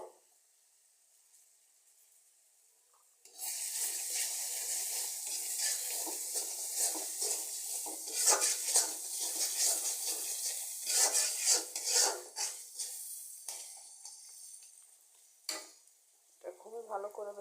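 Egg frying in a pan for a bottle gourd fry, with steady loud sizzling and scraping stirring strokes and occasional utensil clinks. The sound starts abruptly after a quiet opening, runs for about twelve seconds, then briefly fades and returns.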